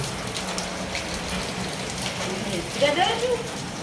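Heavy rain falls in an even, dense hiss that stays constant throughout, with a brief voice rising near the end.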